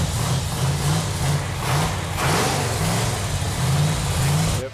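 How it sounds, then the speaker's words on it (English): A 1969 1/2 Dodge Super Bee A12 with a 440 Six Pack V8 idles loudly and close, its lumpy, uneven low rumble pulsing steadily throughout with no talk over it. "It feels really good to hear that engine run."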